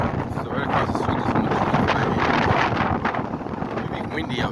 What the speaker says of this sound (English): It'll be windy out today too, by the way.